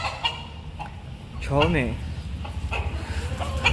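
Chickens on a rooftop in summer heat cluck nearby, one prominent squawking call standing out mid-clip amid shorter clucks, with someone talking over them throughout.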